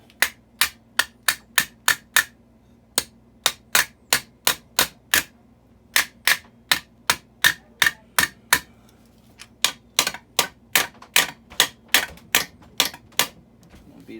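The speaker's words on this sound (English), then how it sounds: "Use a rubber mallet" A rubber mallet taps repeatedly on a 1964 3 HP Evinrude outboard motor, sharp, evenly spaced knocks in steady runs of several blows with short pauses between, close and loud over a faint hum.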